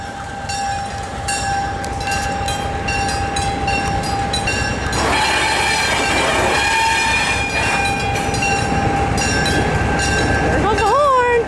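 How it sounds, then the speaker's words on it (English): A Southern Pacific locomotive rumbles up to a wigwag railroad crossing at the Orange Empire Railway Museum, with steady bell tones, a loud close approach and a horn blast at the end. "The Southern Pacific Locomotive is now coming to the Wigwag Railroad crossing over there."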